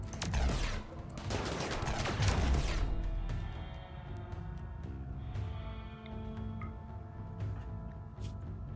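A dense, loud volley of gunfire in the Rimworld video game opens the moment, then gives way to quieter scattered shots and a low background hum.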